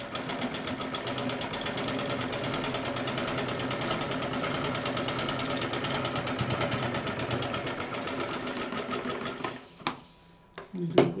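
A sewing machine stitching quilted fabric pieces for a purse runs in a steady fast mechanical whir for several seconds. Then it stops, leaving a few handling clicks and knocks.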